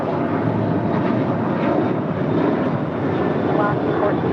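Airliner roaring on a runway at Los Angeles airport as it is cleared for takeoff on 25 right, a loud, steady broadband engine rumble throughout.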